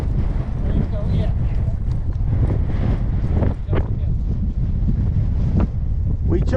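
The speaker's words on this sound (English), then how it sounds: "We chose us a good windy day" Strong desert wind blows during a horseback ride, a steady low roar buffeting the microphone throughout, with voices talking over it.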